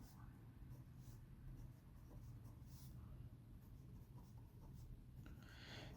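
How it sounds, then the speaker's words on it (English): Pen or marker writing out matrix multiplication by hand, a steady scratchy stroking that runs continuously, close and fairly soft, with no talk over it. "So since it can be multiplied, let's write everything down."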